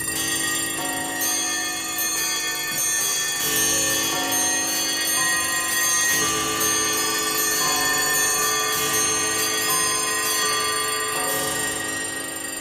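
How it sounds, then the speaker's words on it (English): Many clocks at the opening of the song (2011 remaster) tick and ring together in a loud, sustained chorus of chimes and bells, with ticking layered underneath and no talk. "Starting off with some clocks."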